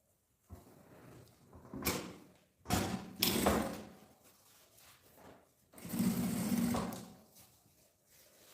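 A sewing machine topstitching a seam on a fabric baguette bag, with several short whirring runs of stitching, close and moderately loud, broken by brief pauses and handling noises.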